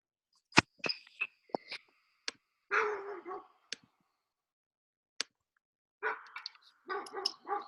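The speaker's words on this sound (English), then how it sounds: "I'll put on some music if the dogs are still barking" Dogs bark off and on somewhere outside a home during a meditation session. The barks come as scattered sharp bursts with quiet gaps between them, fairly distant and faint.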